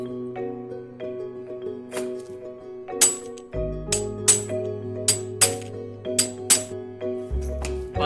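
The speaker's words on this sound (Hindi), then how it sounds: "अब इस पे पहले पंच कर लेते हैं।" Center punch struck into a metal bicycle part, about eight sharp metallic clinks at irregular intervals over steady background music.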